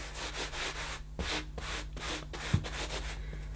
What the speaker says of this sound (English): I'll get down again and rub the carpet